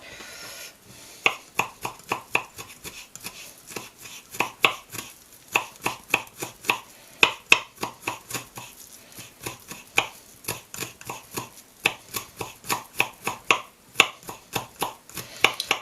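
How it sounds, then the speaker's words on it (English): Garlic being chopped with a knife on a board, a steady run of crisp, close taps in an irregular rhythm, some in quick bursts, with no talk. "I'll chop this garlic up a bit more"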